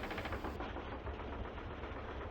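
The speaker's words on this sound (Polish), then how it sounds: "Ten statek jest stary, ale jego silnik ma moc." The engine of an old airship in Final Fantasy IX gives a steady, low, throbbing drone with an even pulsing rhythm. It is quiet and unbroken throughout, and a high hiss drops away early on.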